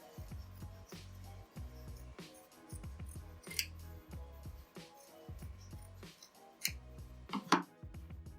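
Scissors snip away excess fabric behind a flower-shaped English paper piecing patchwork, giving a series of close, crisp cuts in an uneven rhythm, with a few louder sharp snips.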